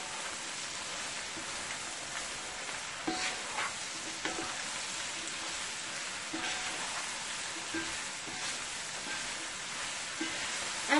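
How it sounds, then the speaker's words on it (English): Steady sizzling of food frying golden brown in an uncovered pan while cooking Guyanese-style dhal and rice with vegetables, a constant crackling hiss with occasional louder pops. "You're going to leave this open until it's golden brown, until it's fried golden brown."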